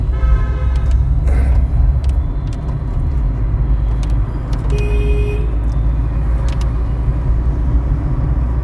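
A Hyundai i20 fitted with a CNG kit drives along the road, a steady engine and road rumble heard from inside, with faint horn toots and passing traffic in the background.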